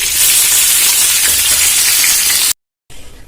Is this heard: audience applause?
no